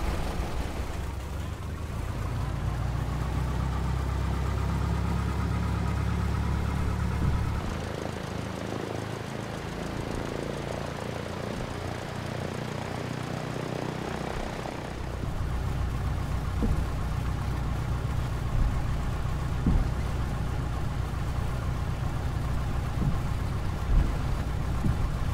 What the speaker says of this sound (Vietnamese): bây giờ đẩy cần ga vào một chút để tăng lực động cơ